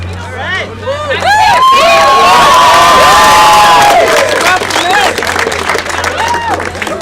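A rally crowd at a high school cheers, whoops and applauds loudly, with shrill shouts and whistles rising over a constant roar of clapping that swells, peaks and then eases.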